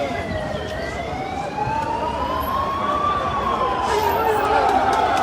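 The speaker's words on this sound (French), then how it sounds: "Donc les pompiers sont en train de passer." Fire engine siren wailing loudly as the trucks pass along a road closed by police, a slow sweeping tone rising and falling over crowd noise and voices talking nearby.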